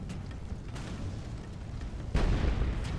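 Artillery fire in a battle video game: a dense, continuous rumble of booms and blasts with heavier low-end impacts swelling in the last second, loud and sustained with no talking.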